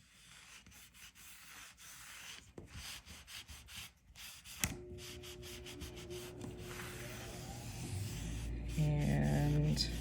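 Wood stain rubbed onto wood with a baby wipe, quick soft rasping strokes in a brisk irregular rhythm, close and faint, followed by a low hum and a steady tone.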